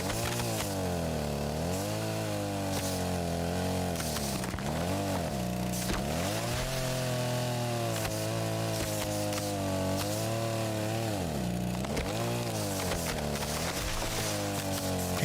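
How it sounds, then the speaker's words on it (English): A chainsaw runs in the video game Rust, its harmonic engine whine rising and falling in repeated revving swells, loud and continuous with clicks and impacts over it. "Chainsaw literally bothers players."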